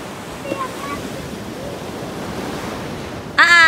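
Sea waves wash steadily up onto the shore in a continuous rushing wash with some wind noise on the microphone, and a voice cuts in at the very end.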